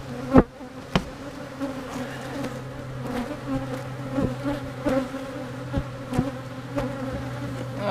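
Bees buzz in a dense, steady drone around an opened, defensive honeybee hive crowded with burr comb, with sharp knocks and thumps from hive work cutting through at irregular intervals.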